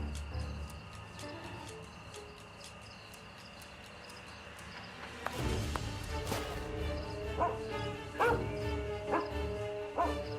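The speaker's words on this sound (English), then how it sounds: "Here's a good dog." A dog named as a tracking hound in The Testament of Sherlock Holmes video game barks repeatedly, with several sharp barks arriving in the second half over a steady ambient game background.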